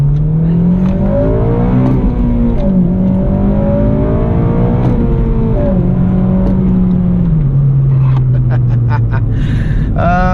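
A Honda with a K-series engine revs and accelerates, the engine note rising and dipping through shifts, loud and steady from inside the car.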